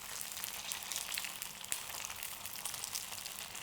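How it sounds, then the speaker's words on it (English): Rice paper rolls pan frying in oil, a dense, steady crackling sizzle close by with small pops, no voices. "these have had quite a few good minutes now, just kind of pan frying."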